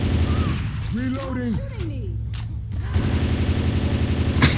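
Gunfire in Left 4 Dead 2 at a carnival level: bursts of shots cracking through a busy game mix while someone talks over it, ending with a sharp shot.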